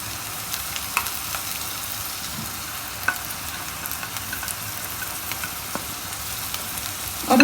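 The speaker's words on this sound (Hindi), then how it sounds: "अब इसके अंदर जिंजर और गार्लिक का पेस्ट डाल देते हैं।" Ginger garlic paste fries with browned onions in a pan, a steady close sizzle with faint scraping stirs and small pops throughout, no talking.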